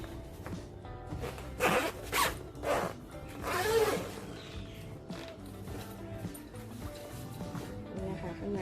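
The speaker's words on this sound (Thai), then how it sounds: "มีซิปสองด้านนะคะเวลาเราเปิด" The zips on a car roof rack bag fitted to a Honda HR-V are pulled open in several quick rasping strokes, close and fairly quiet, while someone speaks softly.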